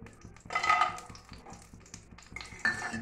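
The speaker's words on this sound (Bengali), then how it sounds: "এবার ওর ভেতরে বড়িগুলো দিয়ে ভেজে নেওয়া হবে।" Lentil dumplings (bori) fry in hot oil in a wok. Bursts of sizzling mix with the scrape and clink of a spatula stirring against the pan, in two louder spells.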